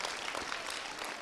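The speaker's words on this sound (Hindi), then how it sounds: "जोर से तालियां इनके लिए भी" Brief, faint burst of audience applause, a soft, even patter of many hands clapping for just over a second.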